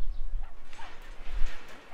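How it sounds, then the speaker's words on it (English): A dog barks in the video game Brothers: A Tale of Two Sons, a few short yips and woofs over low rumbling game ambience, with a faint voice briefly present. "Hello, doggy."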